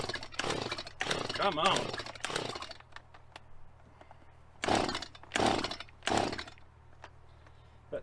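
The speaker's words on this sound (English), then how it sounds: "That choke thing is jacked up on this saw, has been forever." A chainsaw with a faulty choke cuts a large hand-worked wooden beam, roaring in several separate loud bursts with quieter gaps between them, while someone speaks briefly.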